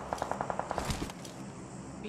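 Rapid automatic gunfire in the mobile battle-royale game PUBG Mobile, a burst of about seven evenly spaced shots followed by a heavier blast, with a player talking over it.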